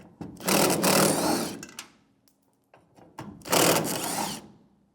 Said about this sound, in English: Now I have a 1/4 inch 7mm socket.